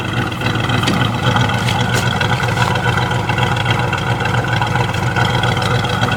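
A 1971 El Camino's 350 V8 engine idles with a steady, rumbling, slightly lopey throb, close and loud, running continuously without any voices.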